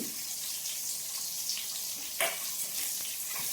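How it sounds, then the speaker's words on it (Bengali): Chopped onion frying in a pan with dry red chilli, bay leaves and five-spice tempering gives a steady, even sizzle, with a few soft stirring scrapes rising briefly above the hiss. "পেঁয়াজটাকে দেওয়ার পর ফোড়নটার সঙ্গে পেঁয়াজটাকে ভালো করে মিশিয়ে নিয়ে এটাকে খুব ভালো করে একটু ভেজে নিতে হবে"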